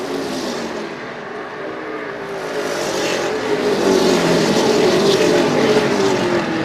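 Stock cars race around the oval at Desoto Speedway, a blended engine roar swelling in loudness and shifting in pitch as the pack passes, heard from a distance.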